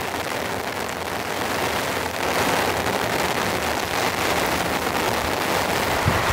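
Heavy rain pours steadily on a remote cabin, a dense, continuous roar of drops hammering the surface with no letup, close and loud, swelling slightly partway through.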